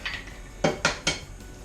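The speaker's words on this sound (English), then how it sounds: "next we want to add our 2 eggs" Eggs are cracked against a bowl while making bread pudding, three quick, sharp taps close by in a quiet kitchen, with no talk.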